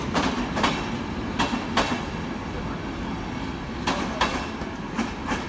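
An old train rolls steadily along the rails, its wheels clacking over joints in irregular bursts against a constant low rumble.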